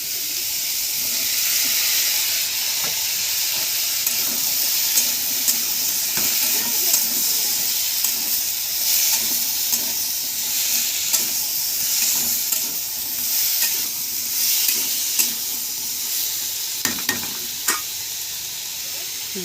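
Cut potatoes fry in a hot pan with fish head and pumpkin, a loud continuous sizzle and hiss with scraping stirring strokes and occasional clinks of the spatula against the pan.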